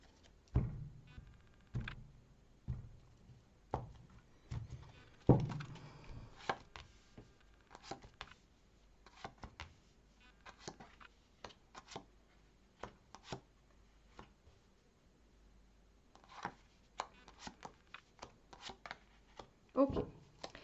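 A tarot card deck is cut and shuffled on a table, producing irregular crisp taps, riffles and soft slaps of cards, some louder knocks and quieter handling between them.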